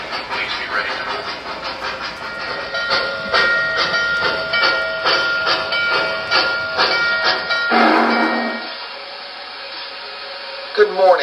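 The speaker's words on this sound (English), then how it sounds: "The 611 steam excursion is approaching the station." An O gauge model of a Norfolk & Western J Class 611 steam locomotive approaches with a steady rhythmic chuffing over a sustained hiss and rumble, loud and continuous, shifting to a brief hissing burst near the end.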